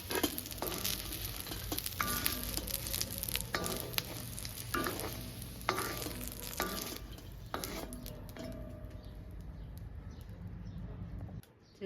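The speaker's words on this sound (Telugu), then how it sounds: "ఆయిల్ వేసుకొని సిమ్లో పెట్టుకొని ఫ్రై చేసుకోవాలండి" Ivy gourd (dondakaya) fries in oil over a low flame, a steady close sizzle punctuated by repeated scraping stirs, with a pigeon cooing faintly in the background.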